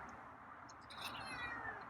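Faint high meows from a feral cat, a couple of short cries over a low background hum, fairly distant and quiet.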